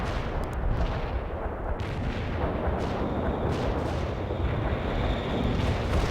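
An artillery barrage in World in Conflict, heard as a dense continuous rumble of distant and mid-range shell blasts and booms that rolls on without a break.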